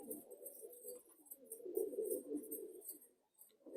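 Madrasi pigeons coo softly in a low, rolling murmur that rises and falls over a few seconds, with faint higher chirps above, and no talk.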